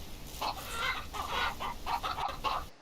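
Chickens in the video game King of Retail cluck continuously in a run of close, choppy calls that fade out near the end, with no one talking.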